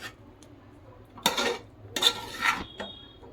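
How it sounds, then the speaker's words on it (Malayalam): A pressure cooker lid being opened in a home kitchen after cooking vegetable pulao, heard as a few close metallic clanks and scrapes of the lid against the pot, with a brief hiss between them. "കുക്കർ തുറന്നു നോക്കാം."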